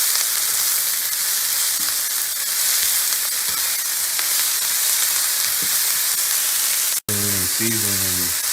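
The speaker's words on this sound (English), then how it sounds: "Now I'm gonna throw in some mushrooms. And we're gonna stir this up." Sliced onion, green pepper and mushrooms sizzle steadily in a hot pan, a loud continuous frying hiss with occasional soft stirring scrapes throughout.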